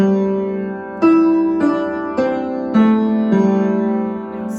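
A piece played on piano with the damper pedal held down throughout, a slow series of five ringing chords that blend and sustain into one another, close and alone.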